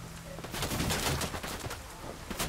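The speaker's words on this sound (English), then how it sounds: "Oh shit, there's someone shooting." Gunshots in the Ghost Recon video game, a quiet cluster of rapid shots and crackling bursts under a dense background din, fairly distant and continuous.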